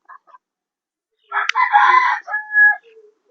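A rooster crows once nearby, loud and clear, with brief clucks before and after in an otherwise quiet setting.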